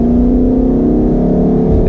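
A 2019 Ford Mustang GT with the Performance Pack accelerates hard on track, its engine a loud, steady droning roar held close and alone throughout.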